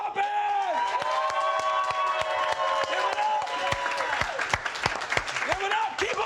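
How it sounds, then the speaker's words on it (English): A comedy roast audience claps loudly and continuously, with cheers and whoops, while an amplified voice talks over the applause. "the big raucous round of applause for Mama Poppin!"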